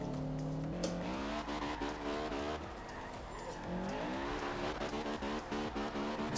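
A Honda Civic Type R drifts in Forza Horizon 2 with the e-brake tapped. The engine revs and shifts pitch continuously, tires squeal and skid, and the sound stays loud and close throughout with no talk.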